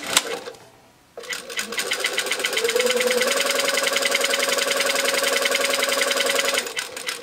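A sewing machine stitches a seam for elastic shirring, starting after a short pause and then running at a steady, fast, rhythmic whirr and clatter for several seconds, close and loud, before slowing at the end.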